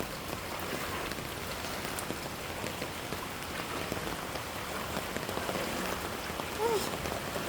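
Heavy, continuous rain pours down on a flooded neighborhood, a dense steady hiss of drops on surfaces, with a brief voice near the end.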